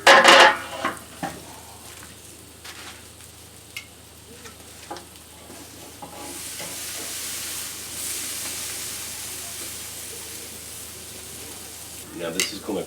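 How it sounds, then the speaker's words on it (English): Steaks sizzle over hot coals on a grill, a steady low frying hiss throughout with a few clinks of tongs or utensils near the start and end, no talking. "flip the steaks over on that hot coal side and then let them go for about 2 to 3 minutes"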